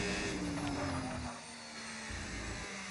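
A Ferrari race car at the Texas circuit snapping into oversteer through the last corner, its engine a loud steady whine that dips briefly partway through, close and continuous for about three seconds.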